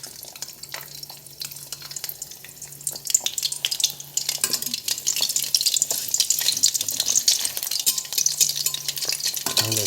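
An egg sizzles and crackles in hot oil in a pan, a continuous close frying hiss that grows busier over time, with a little stirring and clinking of cookware.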